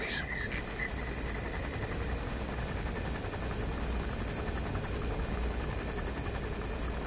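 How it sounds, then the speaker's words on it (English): Enemy gunship helicopter in a Metal Gear video game, a continuous droning rotor roar with a thin high whine, steady and loud throughout with no clear talk over it. "That's an enemy gunship."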